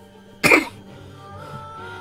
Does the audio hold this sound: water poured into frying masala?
no